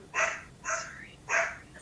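A dog barks three times in quick succession, short yappy barks at moderate distance with brief gaps between, no talk over them.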